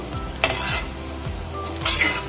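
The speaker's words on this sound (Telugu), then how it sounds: "హైలో పెట్టుకుంటూ సిమ్లో పెట్టుకుంటూ వేయించుకుంటూ వెళ్ళాలండి" Taro root (chama dumpa) frying in a pan on high heat, a steady loud sizzle with a few brief stirring scrapes and clinks of a spatula against the pan, no voices.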